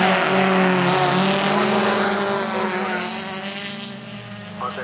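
Race cars in a Joensuu sports car league race roar past, their engines whining loud and close in a continuous pitched drone that slowly fades as they pull away.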